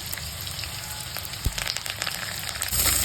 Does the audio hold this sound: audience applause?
no